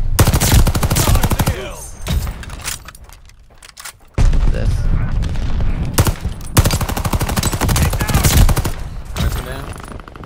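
Rapid bursts of automatic gunfire from the Volkssturmgewehr assault rifle in a Call of Duty: Vanguard multiplayer match, dense volleys with a short lull midway, loud and close, with a player's voice talking over the shooting.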